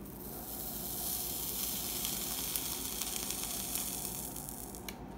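Steady hissing sizzle of steam as a hair straightener boils water off wet doll hair, close and continuous, with faint crackles.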